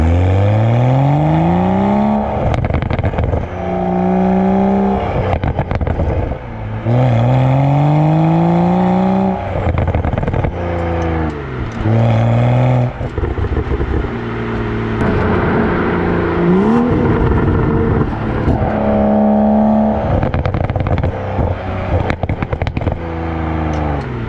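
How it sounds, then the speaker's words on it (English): A 2021 BMW M235i with a modified aftermarket exhaust revs repeatedly, loud and close, engine notes sweeping up and dropping back with pops and crackles between pulls and no talking. "my favorite and the best mod I've done is the exhaust"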